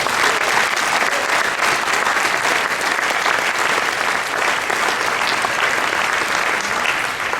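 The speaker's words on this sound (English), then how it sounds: "And I think that alone deserves some applause." A loud, dense round of audience applause at an award presentation, steady and unbroken clapping from many people lasting the whole stretch without speech.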